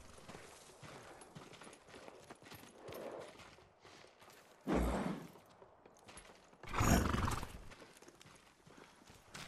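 Horse hooves clopping and a horse neighing in the video game Ghost of Tsushima, soft scattered hoof steps broken by two loud, drawn-out whinnies near the close.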